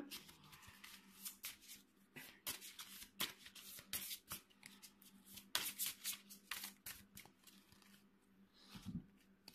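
Tarot cards are shuffled by hand up close, a run of quick papery riffles and soft slaps in irregular bursts, with no talking over them.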